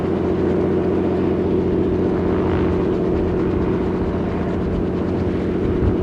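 A small plane passes over a busy little airport, its engine drone steady and fairly loud throughout, a continuous rumbling hum that holds close without fading.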